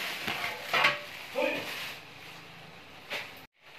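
Chicken cooking with masala in a pan makes a faint sizzle, broken by a few scraping stirs and soft clinks against the pan, with a brief silence near the end.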